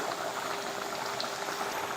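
Thick country chicken curry bubbles and simmers steadily in a pot, a continuous close gurgling hiss with no voices.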